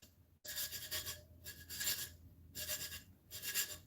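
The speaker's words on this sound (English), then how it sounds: "I'm going to take my fingernail file." A fingernail file rasps along the rim of a tumbler in four rhythmic bursts of dry scraping, close and fairly loud, with short pauses between strokes.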